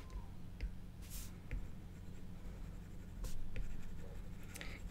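Stylus strokes on a tablet screen while filling in a pattern in Procreate, giving faint scratchy swishes and light taps, several short strokes spread through a quiet steady background hum.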